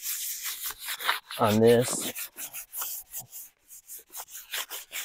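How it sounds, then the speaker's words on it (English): A 600 grit sanding sponge is rubbed briefly over a wooden coffee table top, giving one short, close scratchy pass amid quiet talk. "So I've got a 600 grit sponge, which is actually really, really smooth"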